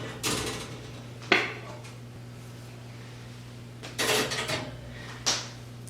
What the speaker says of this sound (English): And then we can put our racks of ginger right in.